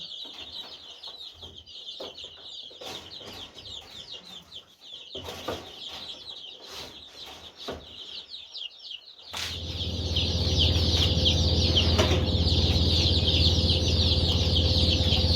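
Dense chirping and clucking of 45 caged chicks, constant throughout, growing louder and fuller halfway through with a low mechanical hum underneath.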